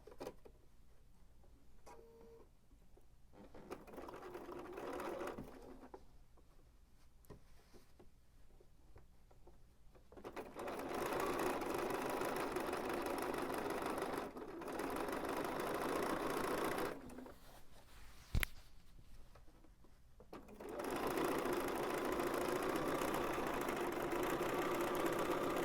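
A sewing machine stitches bias binding onto a scalloped fabric edge, its steady mechanical whir running in long bursts separated by quiet pauses where the needle stops to pivot, close and moderately loud.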